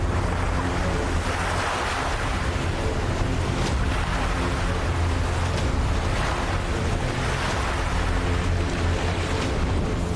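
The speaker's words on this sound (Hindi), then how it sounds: "टापू के और करीब पहुंचे तो समंदर की हलचल और तेज होती गई।" Rough sea waves surge and crash steadily around a boat approaching an island, with strong wind noise buffeting the microphone throughout; no voices are heard.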